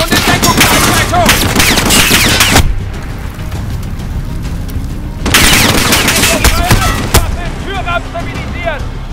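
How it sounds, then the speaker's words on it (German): Heavy suppressive gunfire from automatic weapons in the Modern Warfare 2019 shooter, loud sustained bursts with booming impacts, a brief lull, then another intense volley over background game audio. "Unterdrückungsfeuer und Aufsatz"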